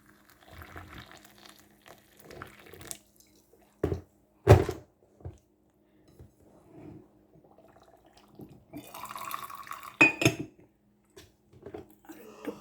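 Hot water from a steaming kettle poured over a teaspoon of green tea, a brief splashing pour late in the clip, preceded by clinks and thumps of kitchenware and a voice talking.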